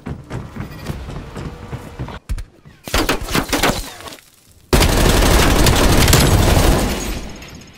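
Gunfire in the video game Call of Duty Black Ops Cold War multiplayer: rapid bursts of loud shots and booms, a brief gap, then a dense sustained volley of fire near the end.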